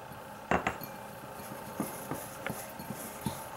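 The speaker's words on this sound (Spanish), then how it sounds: "Vamos a poner el azúcar y lo vamos a mezclar bien." A utensil stirs sugar and spices in a bowl, giving a few scattered, quiet clinks and taps against the dish at uneven intervals with soft rustling between.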